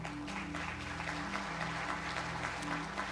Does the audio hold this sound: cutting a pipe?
no